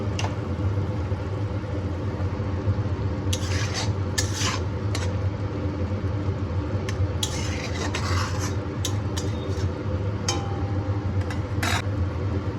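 Kachki fish masala with whole garlic cloves is stirred in a pan. A spoon scrapes and taps against the metal in short bursts over a continuous loud sizzle of frying spices.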